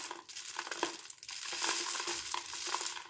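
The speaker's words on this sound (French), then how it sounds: "on verse les légumineuses." Rice, lentils and chickpeas are poured into a homemade shaker instrument, making a continuous close rattling, gritty patter of small hard grains that swells and thins for a few seconds with no voices.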